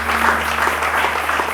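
Church congregation applauding in praise of the Lord during a French-language sermon, a steady, dense burst of clapping from many hands with no voices rising above it.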